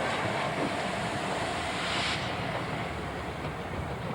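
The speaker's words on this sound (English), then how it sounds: "we see 4468 crossing the River Nid on the Harrogate Circle line." Steam locomotive 4468 Mallard crossing a bridge over the River Nid, heard from a distance as a steady, broad rushing rumble with a faint hiss, holding at an even level throughout.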